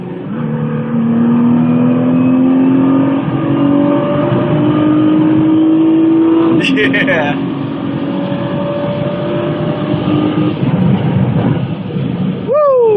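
Nissan GT-R accelerating hard, heard loud from inside the cabin: a continuous engine roar climbing steadily in pitch, a quick gear change midway, then another sustained climb with a sharp shift near the end.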